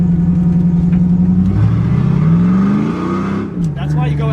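Volvo car fitted with a Chevy LS V8 engine, loud close revving that climbs and falls with a deep rumble, with a voice heard over it.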